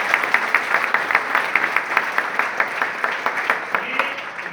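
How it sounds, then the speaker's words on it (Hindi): An audience at a business seminar applauds, producing a sustained run of clapping with a loose rhythmic pulse, fairly even in loudness and mostly free of talk. "एक बार जोरदार तालियां मार दो"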